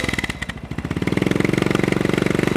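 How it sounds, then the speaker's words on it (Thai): A 2016 Royal Enfield GT535 motorcycle with an aftermarket Thai-made exhaust runs close by, its single-cylinder engine giving a loud, even, rapid thump that quickens slightly as revs pick up. "เป็นท่อแต่งนะครับมาฟังเสียงท่อนี้กัน อันนี้เป็นท่อบ้านเรานะครับ made in Thailand"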